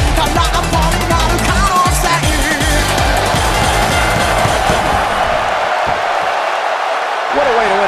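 At a women's wrestling match, a loud arena crowd cheers and applauds continuously, with thuds and slams from the ring mixed in and a commentator's voice running over the noise.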